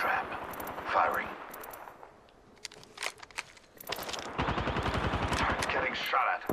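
Gunfire in the battle royale shooter Apex Legends: fast automatic bursts crackle near the start and again from four seconds on, with sharp single shots between them, loud and close over busy game noise.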